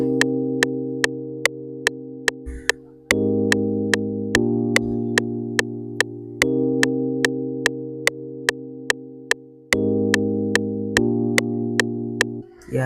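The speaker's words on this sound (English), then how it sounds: "So the first one I just play this is electric piano." An FL Studio stock electric piano sustains emotional chords that change every few seconds, with a sharp metronome-like tick marking an even beat throughout, clean and upfront.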